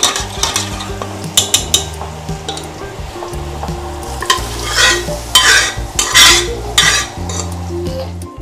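Cooked lentils (dal) are mashed and stirred in a pressure cooker, a run of loud metallic scraping and clanking strokes with wet squelching, steady and close, with no talking.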